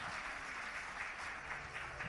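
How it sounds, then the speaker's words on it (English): Faint, distant audience applause at the Indian of the Year 2022 award ceremony, a soft, continuous patter of many hands with no voices over it. "big round of applause for Smriti Rani ji and also Mr."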